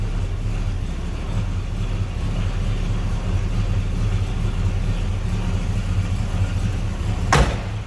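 A 1978 Pontiac Trans Am with a 400 cubic inch (6.6 liter) V8 idles with a steady low rumble, close by, ending with a brief sharp crackle near the end.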